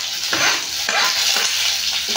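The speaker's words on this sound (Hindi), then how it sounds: "हरी मिर्ची डाल दो" Green chilies, garlic and onion sizzle in a frying pan for a bottle gourd dish, a loud, steady frying hiss broken by rhythmic scraping strokes of a spoon stirring, with no voices.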